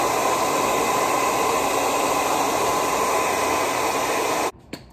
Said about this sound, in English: So you take the blow dryer.